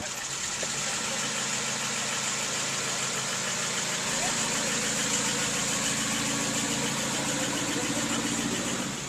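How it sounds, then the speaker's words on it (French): A 1948 Oldsmobile inline eight-cylinder engine runs at a steady idle, giving a continuous low rumble with a faint rhythmic knock, close and loud throughout. "Une Oldsmobile, Oui. Un 8 cylindres en ligne."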